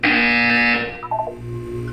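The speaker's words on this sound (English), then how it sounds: "You will hear a buzzer." A loud, harsh electronic buzzer sounds in a Portal 2 test chamber, holding steady for about three quarters of a second before cutting off into a low hum with faint electronic tones.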